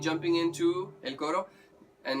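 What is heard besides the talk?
No everyday noises stand out.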